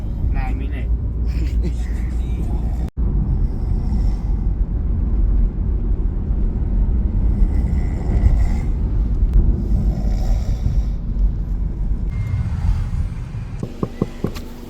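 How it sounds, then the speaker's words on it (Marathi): A car on a road trip to Goa hums along with a steady low engine and road rumble, close and continuous inside the cabin, while people talk over it. "मंडळाचा अध्यक्ष गाडी चालवतो"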